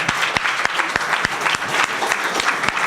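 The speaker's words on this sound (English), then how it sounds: "Can you just give all the companies one big round of applause?" A crowd at a tech meetup applauds, with many hands clapping close by in a lively, uneven patter and sharp individual claps standing out throughout.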